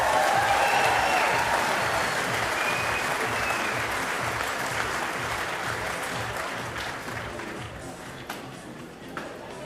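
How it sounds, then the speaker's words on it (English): Applause from the audience at the Golden Shears Trans-Tasman shearing test, a broad crowd roar and clatter of hands that opens loud and tapers gradually over about ten seconds, with no clear talk over it. "Round of applause."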